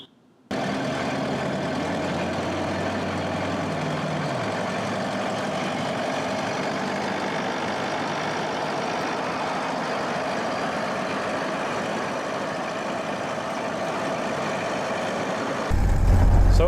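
A restored 1929 Ford Model A runs steadily, its low engine drone holding even and continuous for a long stretch with no voices over it.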